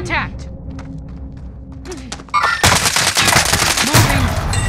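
Game gunfire in Call of Duty: Modern Warfare, a few scattered shots and faint movement, then a sudden loud sustained burst of rapid automatic fire, with a voice speaking briefly over the shooting.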